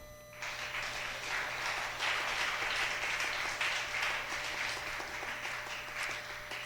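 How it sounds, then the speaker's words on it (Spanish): Church congregation applauding in praise, a steady, fairly loud wash of clapping that starts abruptly and continues throughout with no talking over it. "Aplauda al Señor"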